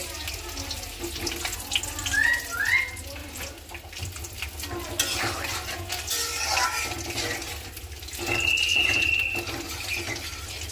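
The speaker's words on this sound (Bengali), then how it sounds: "একটু কষানোর জন্য পানি দিয়ে দিলাম" Water is poured into a pan of spiced chicken being cooked down, a close splashing hiss over the ongoing frying that grows louder toward the end, with no talk.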